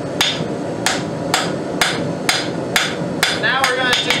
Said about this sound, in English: Get it to the correct heat, and then do the correct amount of forging on it